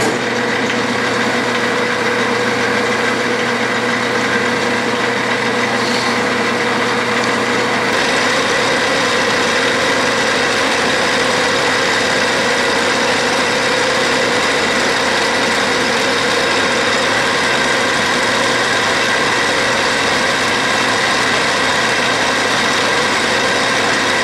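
A Bridgeport milling machine cutting chamfers in metal gives a steady, loud mechanical whir throughout. A lighter hum in the first few seconds gives way to a fuller, denser cutting noise. No voices.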